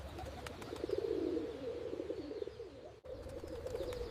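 Pigeons coo in a soft, continuous warbling murmur close by, around an old man on a park bench feeding them bread, with faint bird chirps above.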